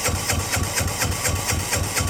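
A diesel engine, run on makeshift fuel, cranks over on jumper cables after its glow plugs are heated, giving a steady, loud, rhythmic chugging pulse about four times a second.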